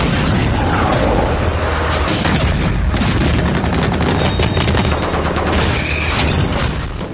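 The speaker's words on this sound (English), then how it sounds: "Guns, tanks, artilleries and missiles shook the Thar desert of Rajasthan" Guns, tanks and artillery firing in a military live-fire exercise in the Thar desert at Pokhran, Rajasthan, a loud continuous barrage of booms and rapid gunfire bursts layered together.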